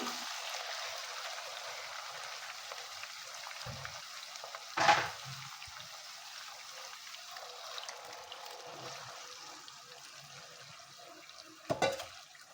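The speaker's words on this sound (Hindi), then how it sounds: "तीन 4 मिनट के लिए फिर से भून लेंगे।" White beans (lobia) frying in a spiced curry masala, a soft steady sizzle with faint hiss throughout and two brief louder scraping stirs, no talk.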